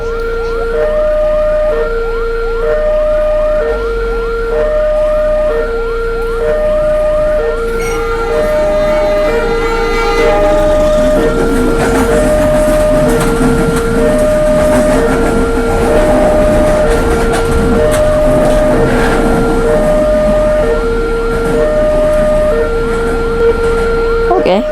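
A level-crossing warning bell dings in a steady, even rhythm while a train rumbles loudly past in a railway crossing simulator game, the noise swelling midway through.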